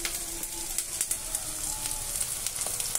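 Ginger garlic paste sizzling in hot oil with cashews, raisins and potatoes in a pan; a steady, close frying crackle with small pops scattered throughout and no talking.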